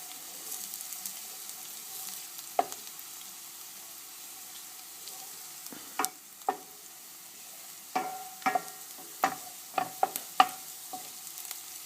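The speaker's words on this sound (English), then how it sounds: "Let's mix that in with these onions." Chopped garlic gets stirred into frying onions for a mushroom risotto, a soft sizzle underneath with scattered scraping clicks of a utensil against the pan, sparse at first and then clustering near the end.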